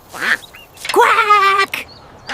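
A voice imitates a duckling with a short series of nasal, tonal quacks, close and fairly loud, with brief gaps between calls.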